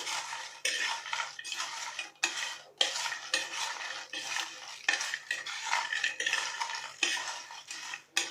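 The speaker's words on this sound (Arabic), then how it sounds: "وهنحط شوية كزبرة، مش اكتر من كده. هي المكونات دي بس اللي هنحطها، وهنقلب بقى كده" Steady clinking of a spoon stirring ingredients with coriander in a bowl, repeated scraping strokes in a continuous rhythm, close and alone without talk.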